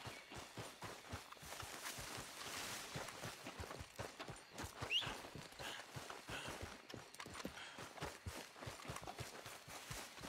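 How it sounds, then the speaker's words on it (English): Horse hooves clip-clopping on a rustic ground, a steady rhythmic stream of distinct hoof strikes, fairly close and clear, with no voices. "Cavalo deu a volta."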